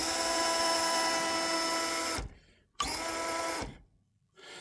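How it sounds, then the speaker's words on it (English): An Injora 180 48T motor revs in an FMS FCX24 K5 Blazer RC crawler, giving a high-pitched, close, buzzing whine. It runs in two bursts with a short pause between, then spins up again briefly at the very end. "Listen to that little motor rip."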